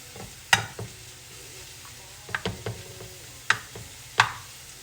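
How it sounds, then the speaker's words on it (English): Mushrooms hit a hot frying pan and get stirred, the spatula striking and scraping in a few sharp, separate knocks over a soft, steady sizzle, close by with no voices. "I'm going to start throwing in the mushrooms here. I'm just going to stir them around a little bit."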